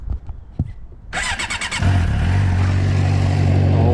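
A garage-kept motorcycle with 22,000 miles being started for its first fire-up: a brief crank stutters, then the engine catches and settles into a loud, steady, close idle rumble.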